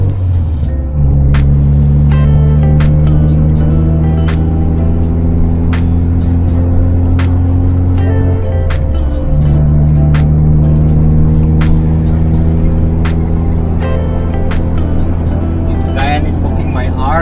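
A Proton Saga with a 4G93 engine runs steadily, a loud, close, continuous drone with its pitch shifting down and back up as revs change partway through, with no talking over it.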